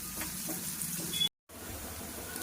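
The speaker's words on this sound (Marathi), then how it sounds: "आता मी त्याचे शेंगदाणे टाकते, मग छान खरपूस होईपर्यंत दोन्ही भाजून घेते" Onions and peanuts roasting in a pan, a soft continuous sizzle with faint stirring scrapes, broken by a brief moment of silence before the frying resumes.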